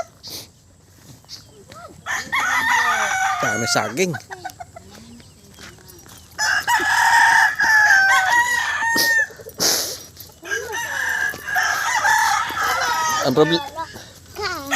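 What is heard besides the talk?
chickens and rooster crowing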